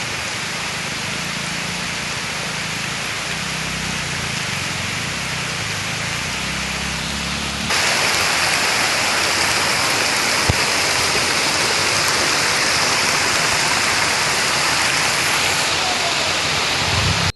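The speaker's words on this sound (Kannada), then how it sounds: "ಪಶ್ಚಿಮ ಘಟ್ಟ ಪ್ರದೇಶದಲ್ಲಿ ನಿರಂತರವಾಗಿ ಸುರಿಯುತ್ತಿರುವ ಮಳೆ" Heavy, continuous monsoon rain in the Western Ghats of Karnataka pours down over rushing floodwater. The dense, roaring hiss grows noticeably louder and fuller partway through.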